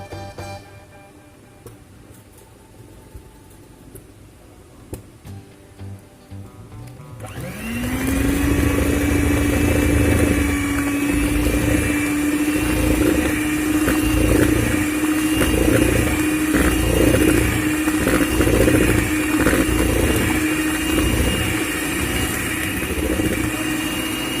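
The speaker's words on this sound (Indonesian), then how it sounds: "Kita aduk-aduk dan mixer sebentar saja ya, hingga tercampur rata saja ya teman-teman" Electric mixer beating putu ayu pandan batter: a few quiet handling knocks, then the motor switches on abruptly and whirs loud and steady for the rest of the stretch, close by and without talk.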